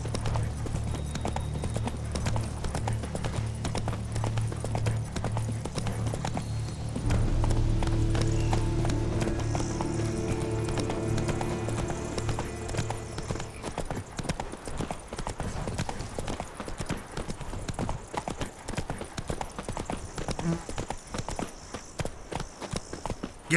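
Hooves of the horse Roach clip-clop in a steady galloping rhythm in The Witcher 3, the beat continuous and close, joined midway by a low droning background tone.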